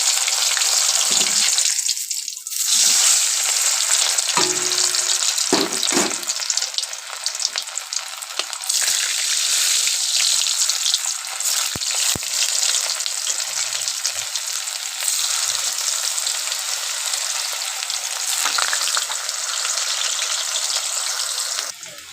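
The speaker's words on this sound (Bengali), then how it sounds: "ভালো করে লাল লাল করে ভেজে নিচ্ছি।" Steady, loud crackling sizzle of chicken potato butterfly snacks deep frying in hot oil, continuous throughout with occasional bursts and pops.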